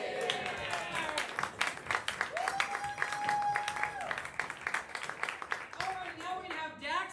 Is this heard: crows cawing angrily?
no